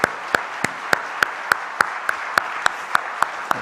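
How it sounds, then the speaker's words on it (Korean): Steady, evenly spaced claps ring out in a church service, about three per second, crisp and close, with a faint murmur of the congregation behind them. "다시 한번 큰 박수로 축복해 주시기 바랍니다"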